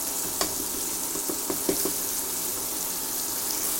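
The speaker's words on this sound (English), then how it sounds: "add tomatoes and asafoetida. Mash the tomatoes." Tomatoes and asafoetida go into hot browning onions for a cabbage curry, giving a soft steady sizzle with a few light knocks and scrapes as the tomatoes are mashed.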